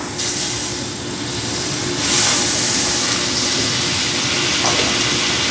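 Unsalted butter sizzling in a hot pan while making Tuscan salmon, a steady loud hiss and crackle that swells partway through, close and continuous with no talk.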